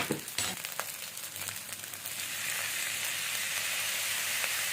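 Plain egg fried rice frying in a pan gives a soft, continuous sizzle that grows fuller and steadier partway through, with a few stirring clinks early on.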